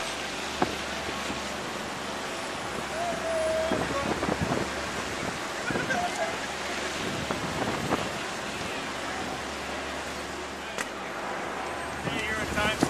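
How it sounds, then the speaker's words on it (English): Gusty wind sweeps through Times Square during a snowstorm, a steady broadband rush with brief louder swells, mixed with city street noise while people talk nearby. "wind just picking up now in the last several minutes"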